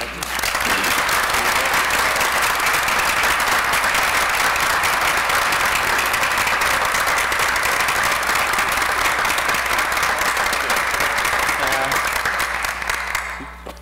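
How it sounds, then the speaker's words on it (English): A school board meeting audience gives sustained, loud applause for an award presentation to Mr. Maves, a dense even roar of many hands clapping for about thirteen seconds before tapering off. "have everybody give him a round of applause"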